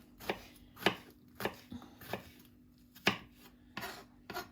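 A knife chops apples into pieces on a board for strudel, with about nine sharp, close chops at an uneven, unhurried pace.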